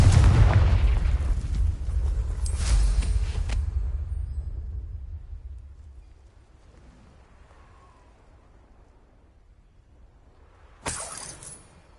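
A Confringo blasting spell in Hogwarts Legacy sets off a loud close explosion with a heavy rumbling boom that slowly fades, then a sharp second crack near the end.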